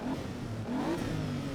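A Lamborghini Countach's engine in the racing game Assetto Corsa Evo rises in a revving mid-pitched drone, close and steady with the pitch climbing and falling over a second and a half.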